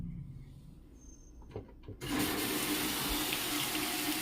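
A washing machine loaded with clothes and liquid detergent starts its fill, and after a short quiet lead-in with a couple of soft clicks, water suddenly rushes in with a loud, forceful, steady hiss that continues to the end.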